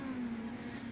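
A dirt mini stock race car in the iRacing video game gives a steady, droning engine note at constant revs for under a second, close and fairly loud, with no talk over it.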